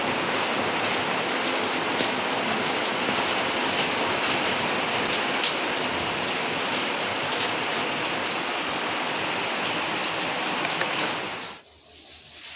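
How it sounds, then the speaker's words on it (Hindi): Heavy rain pours down in a loud, dense, unbroken hiss for about eleven seconds before dropping away abruptly near the end, with no voices over it. "खतरनाक वर्षा।"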